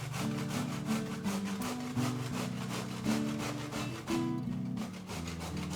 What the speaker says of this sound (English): I will be putting it through the grater.